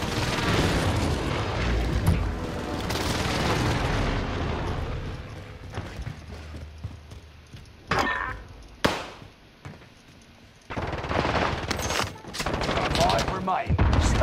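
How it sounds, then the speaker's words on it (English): Heavy video-game combat with a precision airstrike: dense bursts of gunfire and booming explosions roll continuously, thinning into scattered sharp shots and blasts later on, with voices talking over the chaos. "Allied precision airstrike incoming."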